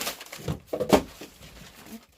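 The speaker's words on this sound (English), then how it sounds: "So I'm just going to take one sheet, if I can find the middle, and I'm going to scrunch it up." A single sheet of wrapping paper is crumpled by hand indoors, giving a few soft, crinkly rustling bursts that fade after a second or two.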